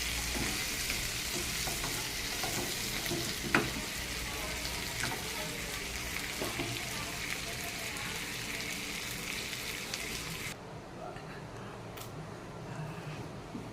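Tandoori chicken sizzling in butter in a pan, a steady dense crackling fry with small pops, close and constant, settling slightly quieter near the end; no talk.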